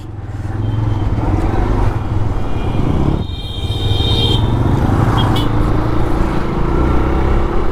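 A Bajaj Pulsar N160 motorcycle rides along at steady speed, its loud engine rumble continuous with a brief dip partway through and some road noise, and no voices.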